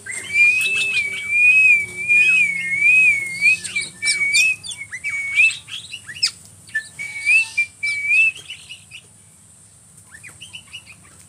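A songbird sings clear, rapid whistled phrases among a flock of tame birds, its warbling trills repeating close and loud over softer chirps and twitters from the others.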